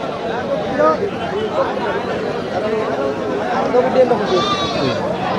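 Goats bleat repeatedly amid a busy crowd at the Melapalayam goat market, with chatter and voices of people talking throughout, the animal calls rising through the steady market hubbub.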